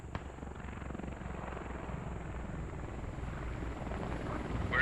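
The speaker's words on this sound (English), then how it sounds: "Russian helicopter flying a little low." Russian helicopter flying low in a battle video game set in Mali, a steady close rotor thump and engine drone that grows slightly louder toward the end.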